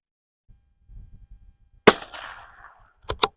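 A rifle fired at an outdoor shooting range: one sharp, loud report with a short echoing tail, followed a second later by two quick cracks, with faint low rustling beforehand.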